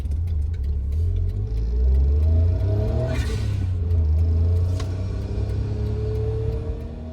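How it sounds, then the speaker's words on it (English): An Autozam AZ-1 cruises on the highway at about 70 mph, its engine droning steadily under a constant low road rumble that swells briefly midway, heard close from inside the car. "This is the car getting on the highway and driving for about 5 minutes at 70 miles an hour"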